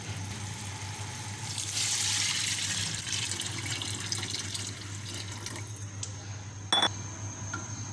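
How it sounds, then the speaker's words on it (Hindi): Water pours steadily from a tap or glass into a pot of soaked rice in a home kitchen, a continuous close splashing stream that ends with a brief clink near the end. "तकरीबन 4 गिलास पानी है वो डाल दिया है मैंने।"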